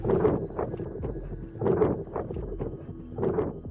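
Wind rumbles across a recording in three swelling, low, blustery gusts at a steady pace, each rising and fading, with no voices present.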